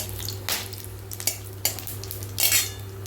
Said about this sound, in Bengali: এরপরে ফোড়নে দিচ্ছি জিরে, শুকনো লঙ্কা, তেজপাতা, লং, এলাচ, দারচিনি